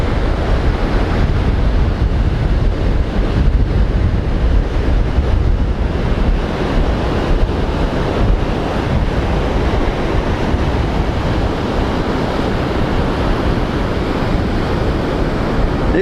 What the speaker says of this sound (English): These guys have more than enough wind here. It's quite strong.